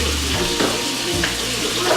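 Ground meat sizzles and crackles in a hot pan, a close, steady frying hiss with a few scraping stirs.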